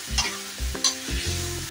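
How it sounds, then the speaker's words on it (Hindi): Ground peas go into roasted spices in a pan for matar ki sabzi and sizzle, with a few short bursts of scraping and stirring close by. "जब मसाले भून जाएंगे तो पिसे हुए मटर इसमें डाल देंगे"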